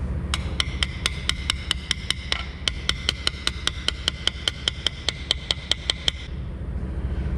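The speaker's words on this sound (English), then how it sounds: "I'm gonna use this socket, use the back side of it so it goes around the little nipple there, and then lay it on there and just tap it in gently." Socket's back end tapping a part into place on a single-cylinder Ski-Doo 335 engine: a steady series of about twenty light, sharp metallic taps, evenly spaced and close, over a low background hum, with no talking.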